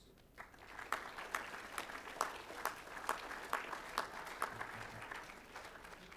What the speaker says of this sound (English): Please give the under 15s a round of applause.